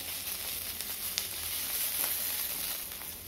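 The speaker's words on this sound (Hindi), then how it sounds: "हमारी प्याज और लहसुन भून के तैयार हो गए हैं" Onion and garlic frying in a pan make a steady, close sizzle with faint crackles, even and continuous throughout with no voices.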